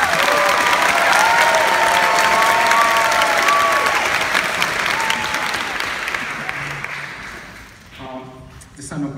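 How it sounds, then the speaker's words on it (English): Audience in a concert hall applauding a youth prelude orchestra, a dense wash of clapping mixed with cheers that fades gradually toward the end. "they deserve louder applause from you."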